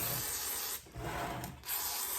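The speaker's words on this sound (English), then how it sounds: "I'm just going to spray WD-40 everywhere." Short bursts of WD-40 aerosol hissing onto a South Bend lathe chuck, a steady broad spray broken by two brief pauses, close and fairly loud with no talking.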